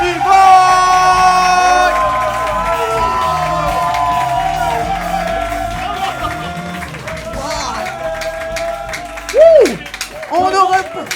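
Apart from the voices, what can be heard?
crowd applause and cheering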